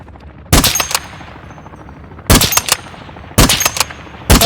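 Four loud, sharp sniper rifle shots spaced well apart ring out in a Call of Duty DMZ match, each a sudden crack with a short tail over faint game ambience.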